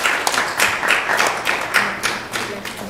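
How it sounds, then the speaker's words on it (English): An audience at a spiritual talk claps in a short round of applause, a close, uneven patter of hands lasting a few seconds. "Big round of applause for yourself."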